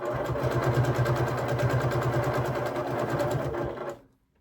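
A sewing machine back tacks a fabric scrap strip for a jelly roll rug, its motor humming loud and close with a rapid regular needle beat for about four seconds before stopping.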